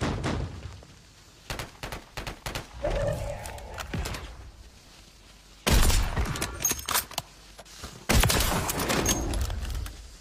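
Sniper rifle fire in Call of Duty Warzone Resurgence, with two loud, close cracks ringing out amid scattered quieter gunfire and clattering battle noise.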